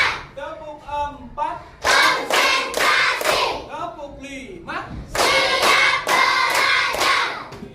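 Students in a classroom clap in bursts of rhythmic, overlapping hand claps. A voice speaks between the bursts.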